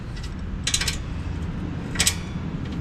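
Caliper bracket being fitted back onto the rear brake of a 2017 Toyota Sienna with 17mm bolts, heard as two short metallic clicks and clacks over a low background rumble, with no talking.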